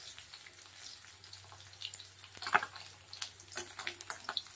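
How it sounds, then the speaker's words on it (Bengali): Small morola fish sizzle steadily in hot oil, a faint, continuous frying hiss dotted with soft crackles and pops. "পরের লাটের মাছগুলো সব ভাজা হয়ে গেছে হালকা লাল লাল করে। এবার তুলে নেবো তেল থেকে।"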